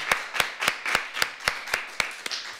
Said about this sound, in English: Thank you so much, Greenfield Primary School. Round of applause.